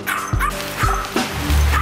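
Dogs in the yard of a Muay Thai training camp let out a few short, close yips and barks in quick succession, separated by brief pauses.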